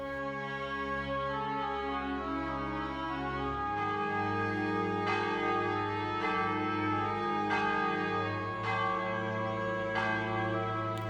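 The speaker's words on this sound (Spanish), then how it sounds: "había empezado a sonar la campana. Un tañido firme y sombrío" A church bell tolls with firm, somber strokes, several deep resonant rings spaced a second or so apart, each blooming over the lingering hum of the previous one, alone without any voice.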